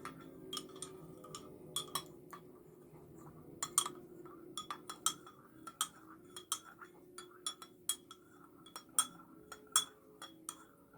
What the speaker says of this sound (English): I'm gonna borrow your spoon, okay? Stir mine a little bit too.